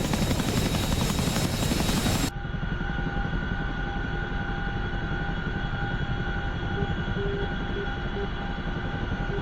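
A CH-47 Chinook twin-rotor helicopter in the DCS flight simulator gives a loud, continuous engine whine and dense rotor throb, steady and close throughout, with a brief broader rush at the start.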